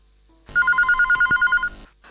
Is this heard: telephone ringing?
yes